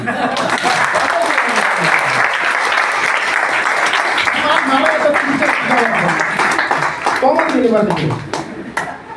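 Audience applause fills a hall during a motivational talk, a dense, steady wash of many hands clapping close and loud, with a voice speaking through it near the end.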